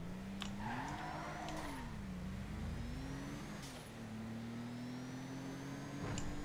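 Turbocharged car accelerating in GTA V, a steady engine drone rising and shifting pitch through several gear changes, continuous and fairly faint, with no talk over it.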